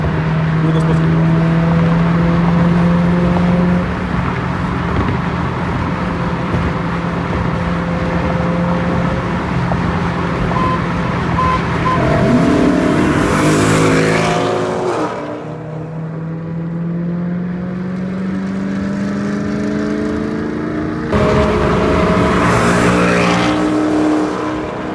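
Dodge SRT8 and BMW M3 engines rev loudly at a Long Island car meet, steady roaring with rising and falling pitch sweeps, a sharp burst of revving midway and another toward the end, close and continuous.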